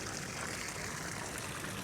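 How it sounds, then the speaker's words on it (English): A small waterfall at Taliesin West, Frank Lloyd Wright's winter home, flows in a soft, steady rushing hiss, faint and continuous with no voices. "look at this waterfall"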